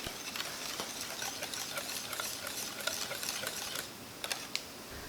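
Cake batter being stirred after cream and vanilla extract are added, a steady soft scraping and sloshing with quick clicky taps throughout, close and moderately quiet, a few sharper knocks near the end, with no talking.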